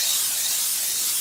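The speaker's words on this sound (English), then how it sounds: "I just have a butter spray. We're going to spray the top of" Butter spray hissing from a can onto pizza dough, one short continuous spray.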